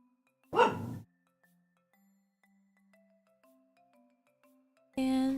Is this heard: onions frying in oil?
no